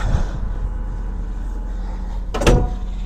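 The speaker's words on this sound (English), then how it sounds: "So what you do then is you close the door," The heavy door of a McHale Fusion 4 Plus baler bangs shut once near the end, a short loud thud over a constant low machine rumble.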